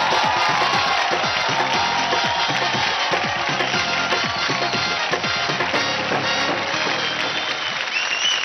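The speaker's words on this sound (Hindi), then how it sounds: "जोरदार तालियां हो जाए जयपुर से आई मल्टी टैलेंटेड ऋषिका सिंह के लिए।" Audience at a Dance India Dance Season 4 mega audition bursting into loud, sustained applause and cheering, a dense crowd roar with whoops that holds steady throughout.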